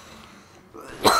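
One short, sharp cough bursts out right at the end after a moment of quiet breathing, close and fairly loud.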